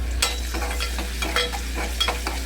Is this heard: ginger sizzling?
yes